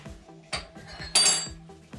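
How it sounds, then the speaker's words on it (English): Whisk strikes a bowl repeatedly as egg mix is beaten into waffle batter, a steady rhythmic clatter of close metallic scraping and tapping, with a brighter clink near the middle and no talk. "I'm going to mix in, or whisk in the egg mix"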